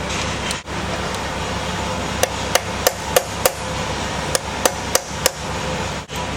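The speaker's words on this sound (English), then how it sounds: "we just usually use a ratchet to take it off rather than the torque wrench" A ratchet loosening a connecting rod cap bolt during an engine build: about nine sharp, close metallic clicks spaced unevenly over a steady low hum, with a brief dip near the start and end.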